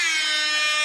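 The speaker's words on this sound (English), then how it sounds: "you're getting my first air horn sound effect of the episode" Air horn sound effect blasting loud and steady for a brief burst, a dense stack of bright sustained tones with no talk over it.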